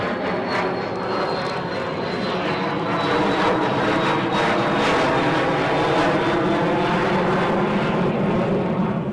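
Airplane departing from Newcastle airport, a loud, continuous engine roar with a high whining tone, heard steadily at close range and growing slightly stronger over the span.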